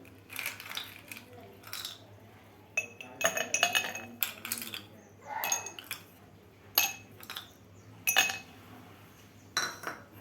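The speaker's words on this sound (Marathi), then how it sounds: "आपल्याला सुरुवातीला यामध्ये थोडासा बर्फ घालायचा आहे" Ice cubes drop into two glasses one after another, giving a run of close, bright clinks and rattles in irregular bursts over a faint steady background hum, with no talk.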